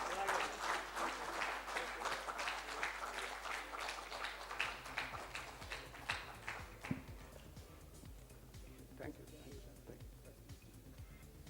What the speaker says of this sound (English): Can we hear a big round of applause for him?